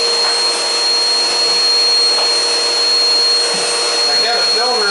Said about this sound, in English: I'm going to use my vacuum cleaner and kind of clean this filter a little bit